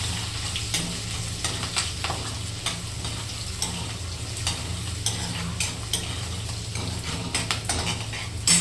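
Onion, garlic, curry leaves, cumin and mustard seeds fry in a pan under a constant close sizzle, punctuated by repeated clicks and scrapes of a spoon stirring against the metal.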